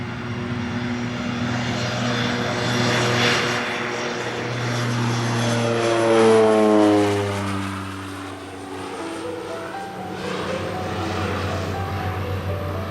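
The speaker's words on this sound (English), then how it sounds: "the Twin Otter is a twin-engine aircraft, of course." Twin Otter twin-engine propeller aircraft droning steadily and loudly throughout, its engine pitch shifting and sweeping as it passes close by, with no voices.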